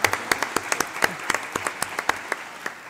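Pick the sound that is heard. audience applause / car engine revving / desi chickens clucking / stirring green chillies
audience applause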